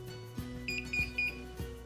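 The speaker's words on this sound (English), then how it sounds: "it will sound an audible alarm" Wi-Fi water leak sensor sounding its alarm on contact with a damp sponge, a rapid series of shrill high-pitched beeps in short bursts over a steady low electrical hum, close and clear.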